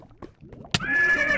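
Minecraft horse in a video game gives a loud, clear neigh that starts abruptly and holds a high whinnying tone for about half a second after some brief quieter game sounds.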